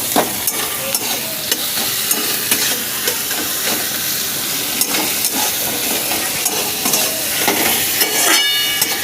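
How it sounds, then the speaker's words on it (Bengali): Onions frying in mustard oil for rohu fish kalia, a loud, busy sizzle close by with frequent crackles and spits, and occasional stirring knocks, continuous throughout with no voices. "আপনারা দেখতে পাচ্ছেন পেঁয়াজটা ভাজা হচ্ছে"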